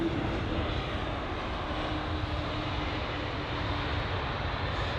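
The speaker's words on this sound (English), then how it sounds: "And so the Air Baltic A220. That had just touched down." An Air Baltic Airbus A220 lands on runway 27 right at London Heathrow, its engine roar a steady, fairly distant broadband rumble that holds evenly throughout.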